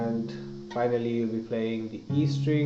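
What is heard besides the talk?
No everyday noises stand out.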